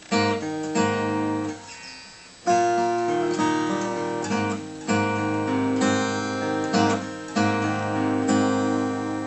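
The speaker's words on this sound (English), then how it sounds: "slightly lift them so that it mutes the sound of these notes" Chords from the intro of a song ring out on guitar, some strums cut short and choked so the notes sound damped, in a slow repeating pattern without any voice.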